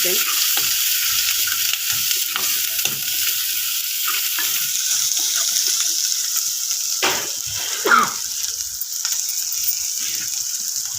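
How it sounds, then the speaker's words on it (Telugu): Chili powder fries in hot oil for a spicy goat-head curry, giving a loud, steady sizzle with a spoon clinking and scraping in the pan now and then, close and with no talking. "చూడండి నూనె అంత ఇట్లా పైకి పైకి తేలుతూ ఉన్నప్పుడు"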